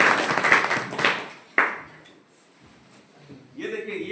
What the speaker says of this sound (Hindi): इनके लिए जोरदार तालियां पंडित जी के लिए